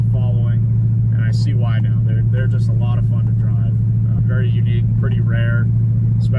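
A stealth gray 2005 Cadillac CTS-V drives along, its engine giving a loud, steady low drone and rumble beneath continuous talking.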